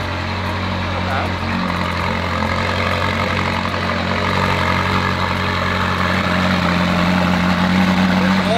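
A McLaren 12C GT3 with a straight-pipe exhaust idles with a deep, steady, close rumble that continues throughout while people talk nearby.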